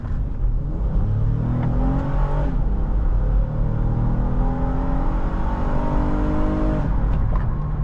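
A 2015 Acura MDX Tech SH-AWD engine hums steadily from inside the cabin while driving, with rising and falling tones as it accelerates, alone and continuous throughout.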